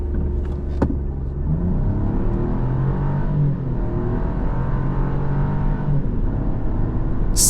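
A 2024 Buick Envista with a turbocharged three-cylinder engine pulls away, its steady low engine drone and road rumble continuous and fairly loud, with a brief bump near the start and no talking.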